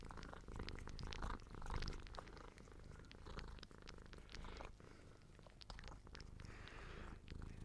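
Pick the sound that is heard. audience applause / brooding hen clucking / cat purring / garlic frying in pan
cat purring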